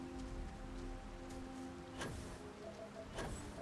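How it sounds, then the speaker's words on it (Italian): Steady rain falling in a Starfield landscape, a soft continuous hiss of drops throughout with a couple of brief louder crackles, heard alone without talk. "Sarà la pioggia?"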